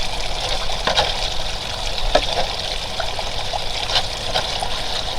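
Water runs steadily through a gold-panning sluice with a loud, continuous trickling and gushing flow, close by with no voices.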